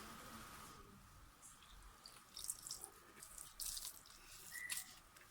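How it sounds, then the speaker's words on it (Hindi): Water is poured a little at a time into flour while mixing pizza dough, making a faint, intermittent trickle and splash close by in a quiet kitchen. "थोड़ा सा पानी मिलाएंगे।"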